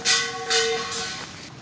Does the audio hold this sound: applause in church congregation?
no